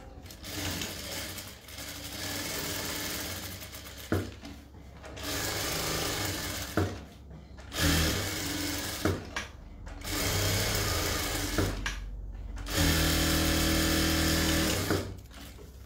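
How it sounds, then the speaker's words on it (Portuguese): A sewing machine stitches through doubled fabric placed right side to right side, running in steady whirring bursts of a few seconds each, with short pauses between them. "Vou passar uma costura nele inteirinho"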